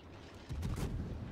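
Warship guns firing in the World of Warships naval game, a single deep booming salvo with a rumbling tail, loud and close.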